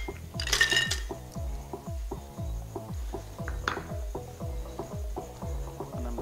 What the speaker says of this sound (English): We shake for like 15, 20 seconds